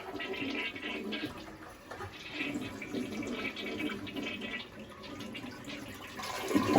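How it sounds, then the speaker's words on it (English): A toilet whose water supply has been shut off is flushed during a replacement, a sustained rushing, gurgling swirl of water close by that swells again toward the end, with no talking. "Then you want to flush it."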